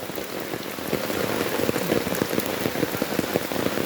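Steady rain pours onto surfaces in a flooded village, a dense continuous hiss with scattered sharper drop hits, fairly loud and unbroken throughout with no voices.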